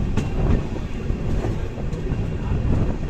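An LTT–Chennai Central express train rolls along at speed, a steady loud rumble of wheels and carriage noise with faint rhythmic clatter, heard from inside a coach.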